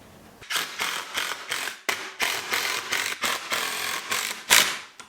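A power drill drives screws into a wooden planter box frame, firing in a rapid series of short, loud whirring bursts separated by brief pauses.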